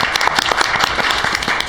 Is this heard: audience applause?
yes